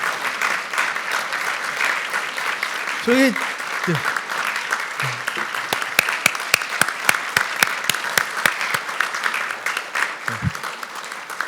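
Applause at an award ceremony as staff members stand to be recognized, a steady crowd clapping that ends in a run of distinct, evenly spaced individual claps, with brief voices and a short spoken word mixed in.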